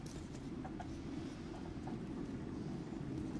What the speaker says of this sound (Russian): Это поезд такой, что ли?